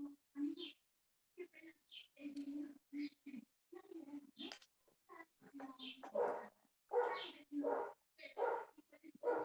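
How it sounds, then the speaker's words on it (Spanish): A small pet dog yaps and barks in bursts behind a voice on a video call, the barks scattered and mixed in with the talk. "aparte se siente tenemos un perrito"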